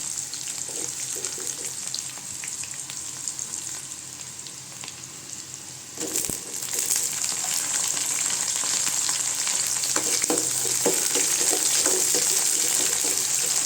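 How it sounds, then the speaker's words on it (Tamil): Onion and tomato sautéing in a pan for an okra gravy, with a loud, continuous sizzle that grows fuller about halfway through, plus faint stirring clicks, close by and without speech. "தக்காளி நல்லா வதங்கட்டும் உப்பு கூட சேர்த்துக்கலாங்க"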